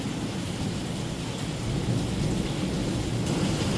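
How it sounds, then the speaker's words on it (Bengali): Heavy storm rain pours steadily with a deep rumble of thunder rolling underneath, building slightly louder toward the middle, with no voices. "এত ভয়ঙ্কর বৃষ্টি হচ্ছে, এত ভয়ঙ্কর মেঘ দিচ্ছে, আই মিন বিদ্যুৎ চমকাচ্ছে"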